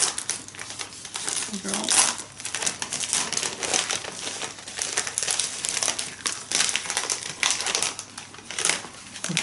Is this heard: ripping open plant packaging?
yes